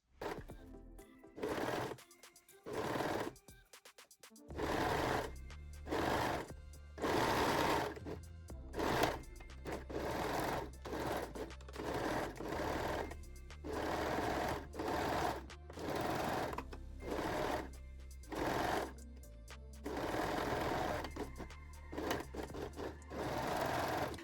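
A sewing machine stitches the side seams and crotch of lace-back panties in repeated short bursts with brief pauses between runs, close and clear with no talking.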